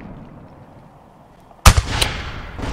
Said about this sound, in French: Déployer un coup de canon.